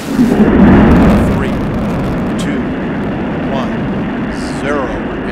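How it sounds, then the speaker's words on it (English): Space Shuttle Atlantis lifting off: a loud, broad rocket roar that swells in the first second and then holds as a steady, rumbling wash, with a voice speaking over it. "liftoff of Space Shuttle Atlantis"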